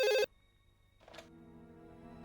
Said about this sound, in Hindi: मैं अभी एसीपी को फोन करती हूँ